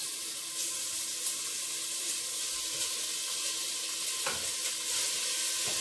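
Floured beef chunks sear in a hot pot for Irish beef stew, producing a loud, continuous, close sizzle and spatter with occasional stirring scrapes throughout.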